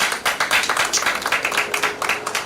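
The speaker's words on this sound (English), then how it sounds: "I want a round of applause for Nigel." Applause for Nigel Hughes, the new leader, at an AFC 19th anniversary flag raising ceremony: a crowd clapping steadily and fairly loudly, with dense overlapping claps sustained throughout.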